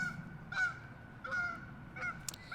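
A goose honks three or four times in short, nasal calls spaced about half a second apart, sounding fairly distant and faint against quiet outdoor background noise.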